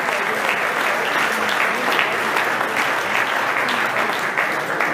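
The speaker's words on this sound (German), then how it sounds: "Applaus" An indoor crowd claps steadily at a 2016 WABV amateur boxing championship during fighter introductions, a dense, loud wash of applause with no break for five seconds.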